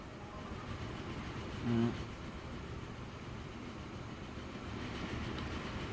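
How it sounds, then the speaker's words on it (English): A train rolling on rails in the game Archipelago, a steady low rumbling wash with a faint clickety rhythm, loud and continuous, with a brief bump partway through. "Come on, train."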